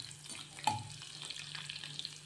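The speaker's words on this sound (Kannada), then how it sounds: "ಎಣ್ಣೆ ಬಿಸಿಯಾಗಿದೆ. ಜಜ್ಜಿಟ್ಕೊಂಡಿರುವಂಥ ಬೆಳ್ಳುಳ್ಳಿ ಹಾಕ್ತಾ ಇದ್ದೀನಿ." Crushed garlic dropped into hot oil gives a short burst of sizzling frying that settles into a steady, close, soft crackle with no talk.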